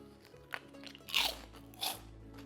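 Two loud, sharp crunches of teeth biting into a dense, crisp shrimp chip cooked in an air fryer, close up, with quiet chewing between bites and no talking.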